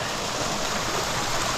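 Waterfall spilling over moss-covered rocks on a mountain trail in September, a constant broadband rushing roar, close and steady with no voices.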